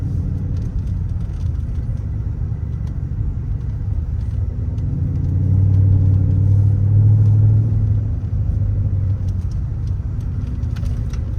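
A tuned car accelerates hard on an open road from 60 to 130, its steady engine rumble swelling into a louder, deeper drone midway before easing back to a constant cruising hum, with no voices.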